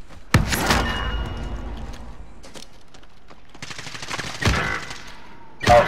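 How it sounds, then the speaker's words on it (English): Bursts of gunfire punching through wooden cover in a first-person shooter, loud sharp volleys at the start and end with a sustained crackle in between, no talk. "They're shooting through the wood."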